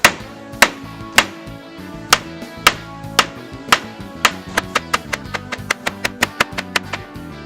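Sharp, loud hammer blows strike a wooden pallet to knock its boards loose. They start as evenly spaced single knocks and speed up into a fast, ringing run of strikes.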